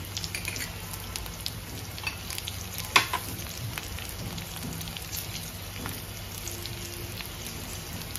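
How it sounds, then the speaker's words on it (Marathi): Garlic and green chili sizzle in a frying pan for a horsegram curry, a steady close hiss with a few sharper pops and crackles, no voices over it. "लसूण जरा लालसर होऊ द्यायचा। हिरवी मिरची टाकते मी"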